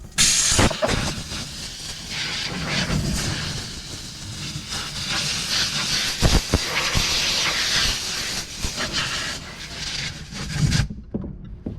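Compressed air blowing over a car interior after steam cleaning during mobile detailing, a loud continuous rushing hiss with rattling bursts, close and unbroken for about eleven seconds before cutting off.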